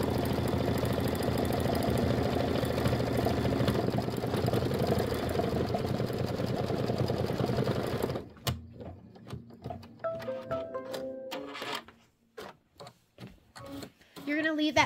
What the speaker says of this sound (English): Let's stitch out his little tail